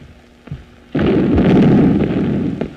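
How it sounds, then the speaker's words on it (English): Field artillery fires in an old 1931 film, a sudden loud booming blast that rolls on as a sustained rumble after a few faint earlier thuds, with no talk. "The stupid field artillery. They're shooting the wrong way."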